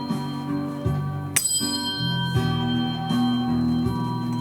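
Several pure, sustained metallic tones from tuning forks, including C and a C an octave higher, ring and overlap, with a sharp strike near the start and new tones entering repeatedly, close and clear.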